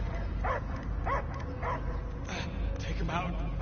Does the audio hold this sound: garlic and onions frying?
no